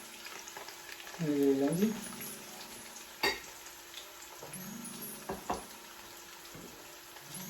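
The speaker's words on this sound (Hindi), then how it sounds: "ये लें जी, ऑयल हमारा गरम हो चुका है। अब इसके अंदर ऑनियन शामिल कर देंगे।" Onions dropped into hot oil, bursting into a loud sizzle that settles into steady frying, with a spoken voice over it and a few clatters of a utensil against the pan.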